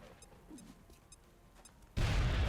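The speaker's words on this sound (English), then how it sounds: "So I can throw a grenade." A grenade explodes in a video game: faint clicks and quiet interface sounds give way to a sudden loud blast near the end that roars on without fading.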